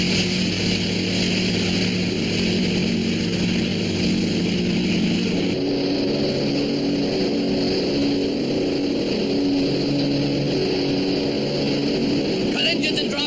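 Steady motorboat engines drone and rumble continuously, with a shift in pitch partway through; a voice is faintly present under the engine noise.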